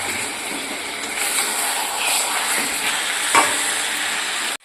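Meat sizzles in a pan while being stirred, a steady close frying hiss with occasional scraping, alone without talk.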